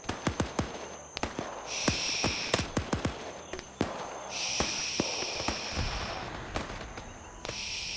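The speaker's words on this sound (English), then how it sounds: "We're also taking suppressed fire from some." Suppressed gunfire in a military shooter: many sharp, dry cracks in irregular bursts, some close and some farther away, with occasional high whining tones and no talking.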